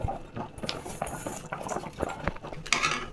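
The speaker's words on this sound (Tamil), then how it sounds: "பால் கொதிச்சிடுச்சு ரவையை கொட்டிக்கலாம்" Milk bubbles at a rolling boil in a pan for kesari, a busy, uneven patter of popping bubbles with occasional sharper clinks, fairly faint and close, with no speech.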